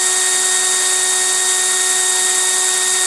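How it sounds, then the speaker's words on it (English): A power drill whines at a steady high pitch, continuous and close, while winding wire into a seamless coil, with no talk. "This is my preferred method of doing it, is using a drill."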